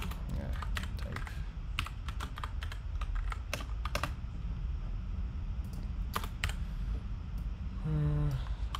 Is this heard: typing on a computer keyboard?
yes